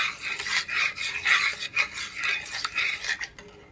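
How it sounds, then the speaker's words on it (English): A spoon scrapes and clinks steadily against a bowl while brown sugar and honey are stirred together for a sticky honey chili chicken sauce, close up and without talk. "I'm gonna just stir it."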